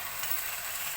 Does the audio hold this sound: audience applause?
no